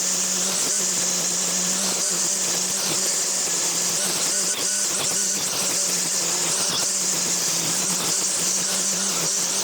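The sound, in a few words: Makita 40V XGT line trimmer cutting thick growth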